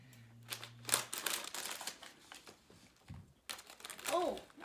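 Crinkly plastic snack bag of falafel-flavored wheat snacks being handled and cut open with scissors, soft rustling and a sharp snip, close and fairly quiet, with a few voice sounds in between.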